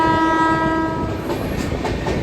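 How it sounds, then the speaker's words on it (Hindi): The Seemanchal Express rumbles past the Ajmer Sealdah Superfast Express on an Indian railway line, a loud sustained train horn blaring over the close, steady clatter of wheels on track. "तो चलिए भाई फाइनली ओवरटेक कर दिया है अजमेर सियालदा सुपरफास्ट एक्सप्रेस को"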